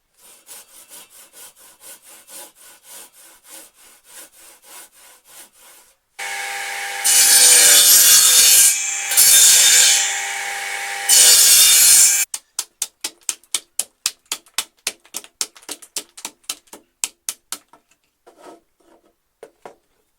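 A hand saw cuts wood for the tenons of a gate, first in a quick series of short strokes, then a stretch of loud, continuous rasping, and finally a run of sharp, evenly spaced strokes that trail off, all close up and with no talk.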